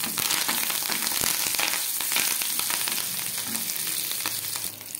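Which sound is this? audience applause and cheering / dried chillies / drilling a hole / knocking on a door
dried chillies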